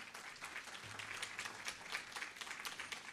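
Faint, distant applause from a convention audience: a steady wash of many hands clapping, low in level and continuous throughout, with no speech over it.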